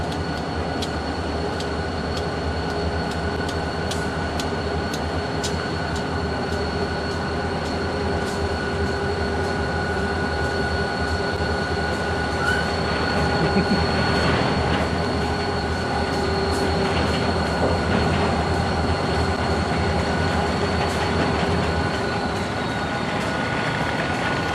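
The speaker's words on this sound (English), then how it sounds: "we then heard the rumble of yet another set of locomotives coming towards the junction" Ohio Central diesel locomotives rumble toward a rail junction, a steady, loud, continuous drone with a faint high whine and sporadic wheel clicks, swelling slightly midway and holding throughout with no voices.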